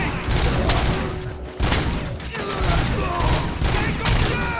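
A dense, nonstop volley of gunfire rattles through a RoboCop Rogue City firefight, with overlapping shots and heavy impacts, and faint shouting may sit beneath the shooting.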